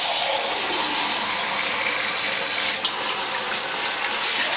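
Tap water runs steadily into a cooking pot being filled for black peas, a continuous close hiss and splash with a brief clunk partway through.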